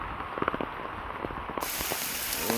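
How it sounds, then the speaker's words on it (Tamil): Heavy rain pours steadily, a dense continuous wash that grows fuller and louder partway through, with scattered sharper drop impacts near the microphone on a field. "நல்ல மழை அடித்து ஊற்றிக்கிட்டே இருக்குது."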